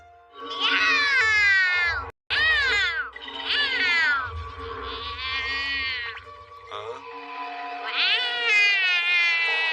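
A cartoon cat in a Hindi-dubbed Doraemon episode meows and caterwauls again and again, loud and close. The long, wavering cries follow one another almost without pause, with one brief gap near the start.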